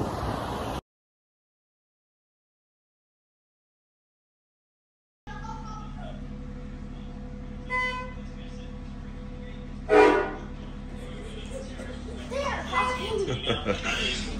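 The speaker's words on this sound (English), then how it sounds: "the other one's honking the train horn on the truck" A truck's air horn rigged to sound like a train horn, heard at a busy truck stop, giving a couple of short blasts at about 8 and 10 seconds. Steady engine rumble and scattered voices run underneath.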